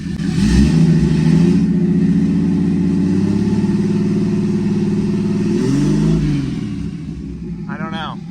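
A turbocharged Jeep Cherokee engine holds a loud, steady high rev for several seconds near the listener, sailing past its set two-step limit, then dips and wavers before a short final rise.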